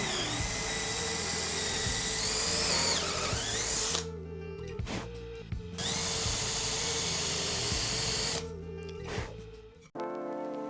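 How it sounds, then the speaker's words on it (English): A power drill countersinks screw holes in two long, loud whining bursts separated by short pauses, with the motor pitch shifting as it cuts and a final brief stop. "Then I'm starting to drill straight, slowly turning the drill around to follow the direction of the first hole"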